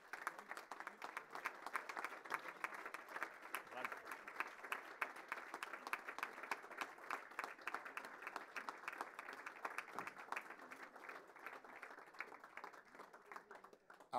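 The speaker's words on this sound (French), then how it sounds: "Merci d'applaudir Monsieur Jonathan Klaus." Sustained audience applause at the 2022 Alsatian football awards ceremony, greeting the year's football ambassador Jonathan Klaus: dense, steady clapping from a sizable crowd lasting about fourteen seconds at moderate volume, tapering slightly at the end.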